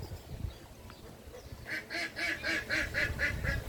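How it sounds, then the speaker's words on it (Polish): A drake duck on a tropical plantation on Maui gives a rhythmic run of about eight loud, nasal quacks close by, following a quieter stretch of background noise. "kaczki mają coś do powiedzenia też"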